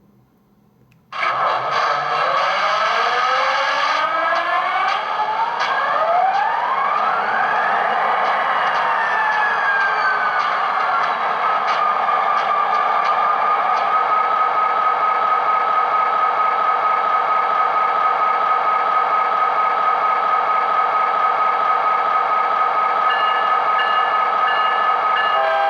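A Metro Link F40 model locomotive's head end power sound effect starts after a second of quiet with a rising whine, then settles into a steady, loud, hissing electrical drone that holds unchanged to the end.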